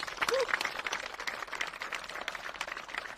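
Applause for a boys' high school rugby team after a national championship final, a dense, fairly distant patter of clapping with a brief voice at the start.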